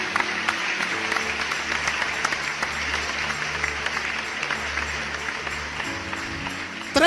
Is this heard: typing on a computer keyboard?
no